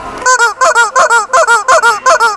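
Rubber chicken squeaking in a steady run of about nine loud, honking squawks at a regular rhythm, heard close and alone.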